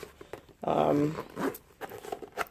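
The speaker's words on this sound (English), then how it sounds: "The zipper is smooth." Zipper on a bag being pulled open and closed, a couple of quick rasping zips, close and fairly clear, with small handling noises around them.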